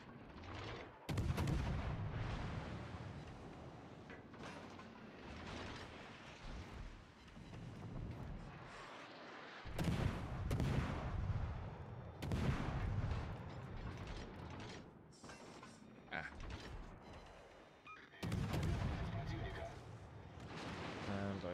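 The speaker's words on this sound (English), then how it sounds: "Now we're spotted, so we might as well shoot the Chapayev" Naval guns firing in World of Warships: Legends, loud booming salvos recurring every few seconds over a dense battle mix of engines and effects, with someone talking throughout.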